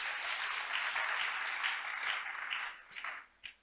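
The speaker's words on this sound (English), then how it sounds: "I think we should give him a very big round of applause." A conference audience applauds the Governor of Adamawa State with steady, fairly distant clapping that holds evenly, then tapers off into a few scattered final claps.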